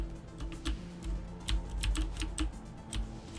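Computer keyboard keys tapped while playing a video game, irregular close clicks and clacks over a low steady hum, with no talking.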